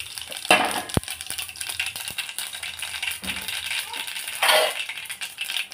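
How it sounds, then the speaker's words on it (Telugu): Mustard seeds and cumin drop into hot oil in a bowl over a low flame for a ridge gourd curry, crackling and popping in scattered bursts alongside a sharp metallic clink and light rattles, close by with no talk. "ఆయిల్ హీట్ ఎక్కినాక ఆవాలు, జీలకర్ర వేయాలి"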